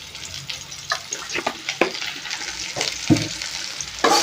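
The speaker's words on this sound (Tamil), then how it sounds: "நல்லா இப்படி இப்படி ஒரு கரண்டியில் வந்து பரட்டி விட்டுக்கோங்க" Raw banana slices fry in a pan as a ladle scrapes and turns them in irregular bursts, with a soft sizzle beneath the sharp clacks, heard up close.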